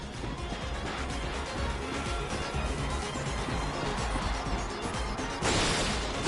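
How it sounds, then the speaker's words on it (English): Crates being bashed in the Ratchet & Clank PS4 game, a dense run of crunching smashes and thwacks over game music, ending in a louder burst of breaking. "Let's see how well you can bash these crates."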